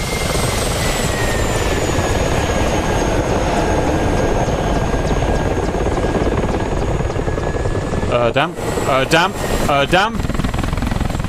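A helicopter in the combat flight simulator DCS World runs a steady, loud rotor and turbine drone with a whining tone all the way through. Radio-style voice chatter breaks in near the end.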